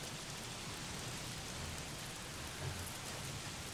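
Steady rainfall in the video game Days Gone, a dense, even hiss of drops pattering on surfaces with no break, soft and constant, with a faint low rumble beneath.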